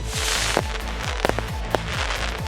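Rapid shots from a 240-rocket fireworks battery firing at angles crackle and thump in quick succession, each launch followed by a falling whoosh, loud and continuous.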